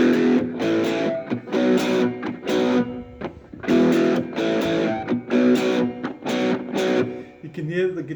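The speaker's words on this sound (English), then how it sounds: "With the power chords and the overdrive" Electric guitar power chords played through an amplifier with overdrive distortion switched on, loud strummed chord blocks in a driving rhythm with brief gaps between hits and a short bent note at the end.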